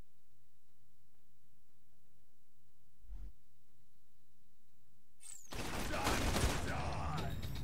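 Contraband skyrocket firework grenades in Borderlands 2 go off after a faint tick and a brief pop, then burst into a loud, crackling barrage of rapid explosions that keeps sputtering to the end.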